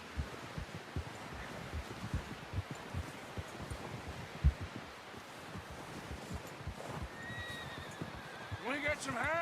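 Horse in the Red Dead Redemption 2 video game, with steady clip-clop of hooves and wind noise under people talking, then a loud whinny near the end.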